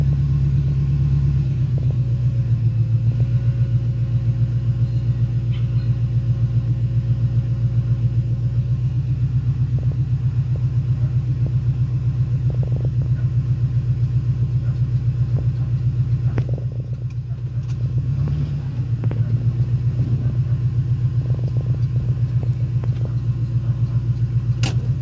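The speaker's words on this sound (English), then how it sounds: "It's because the RPM's too high." A car engine held at high RPM while in drive, with a fault after exhaust work, gives a loud, steady close-up drone and rumble that barely dips partway through.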